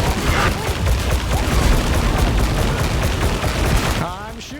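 Continuous gunfire from shooting in the Judge Dredd video game, a dense, loud rattle of rapid shots and booms running for about four seconds before cutting off, with a voice speaking at the end.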